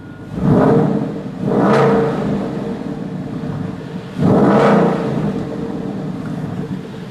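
A Supra car engine revs loudly three times, each surge rising and falling, with a steady idle rumble between the bursts.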